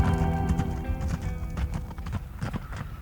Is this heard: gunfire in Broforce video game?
no